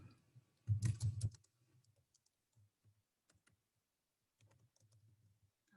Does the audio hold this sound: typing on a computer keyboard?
yes